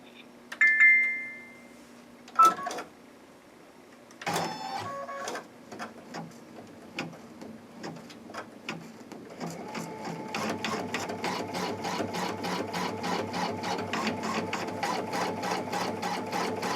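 Embroidery machine stitching letters in metallic thread, starting after a few beeps and clicks, then settling into a steady, rapid mechanical chatter that runs continuously at close range.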